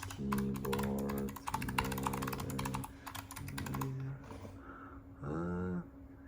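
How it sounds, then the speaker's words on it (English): Keys clattering in quick bursts on a Logitech G815 keyboard, loud and close, with strong harmonic voiced sounds like talking or humming running underneath much of the typing. "So we have a Logitech G815. Is it 815? Okay, so I typed without mistakes."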